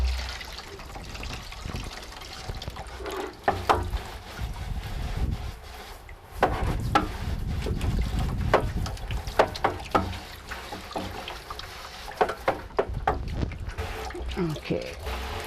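Water pouring and trickling as it rinses bullet fragments out of a metal bullet trap, a steady wash with splashes and knocks throughout, close by, with a voice talking partway through.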